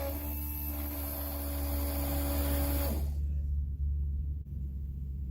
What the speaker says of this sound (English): I've got a fuel pump, got the line wired to an ignition source.